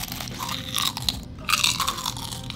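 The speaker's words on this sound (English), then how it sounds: "You hear that crunch?" Loud, close crunching and chewing of a potato chip dipped in bacon onion dip, with irregular crisp bites and mouth sounds over a short stretch, no talking.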